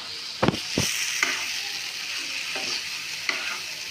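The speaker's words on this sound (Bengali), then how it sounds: "পাঁচ মিনিট নাড়াচাড়া করে" A spoon stirs green banana ghonto frying in a pan, soft sizzling throughout with a few scraping strokes and clinks near the start and scattered later, close and without talk.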